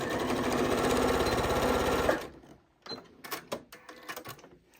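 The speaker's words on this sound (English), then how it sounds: "So lower my needle, take a few stitches, back stitch, and stitch all the way down to this line." A Janome 8200 QCP sewing machine runs fast and steady while stitching darts in a fabric bowl cozy, then stops abruptly, followed by a few quiet clicks and handling sounds.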